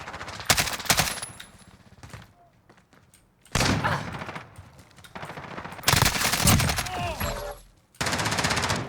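Automatic rifle fire in Call of Duty: Modern Warfare comes in several loud, close bursts separated by short quieter gaps, with sharp individual cracks and rattling sustained volleys.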